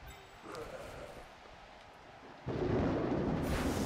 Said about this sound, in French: C'est l'orage et tout.